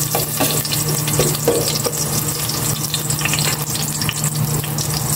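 Garlic sautéing in a hot pan, a loud, dense, continuous sizzle with faint stirring scrapes, close and steady throughout.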